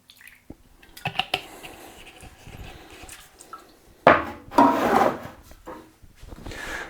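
Bike paint being stirred together with thinner for a Cannondale SuperSix Evo Hypershift finish, heard as wet squishing and scraping strokes that swell loudly mid-way, close up, with faint clicks and knocks around them.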